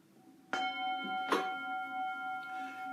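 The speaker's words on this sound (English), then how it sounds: "So let's hit the gong." A gong struck twice, each hit ringing out with a bright shimmering tone that lingers and overlaps, the second strike louder, sounding close in a quiet room.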